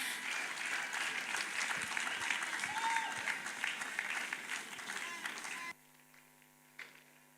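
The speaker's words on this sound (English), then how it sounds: "Please keep clapping." An audience at a church conference session applauds a youth dance crew, dense sustained clapping filling the hall for several seconds before it cuts off abruptly into quiet hum.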